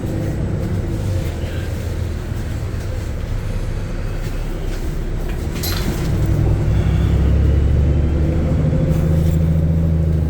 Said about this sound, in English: It's a hybrid bus 40-245 from the year 2020.